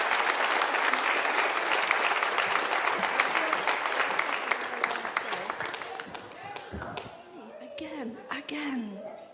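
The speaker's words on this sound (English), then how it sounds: "Can we give these guys a round of applause?" A church congregation gives a sustained round of applause that is loud at first and gradually thins out, with a few voices speaking faintly near the end.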